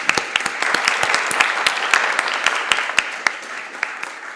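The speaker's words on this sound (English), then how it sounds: "So give a round of applause for Vicki." Audience applause at an academic roundtable on replication and transparency, a dense, fairly loud burst of clapping from a room of people, steady throughout with sharp individual claps standing out.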